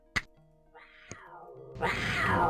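A cat meows in the video game Ravenloft: The Stone Prophet, with a drawn-out, wavering cry followed by a louder, harsher yowl, set between two sharp clicks. It is close and clear, with no talking.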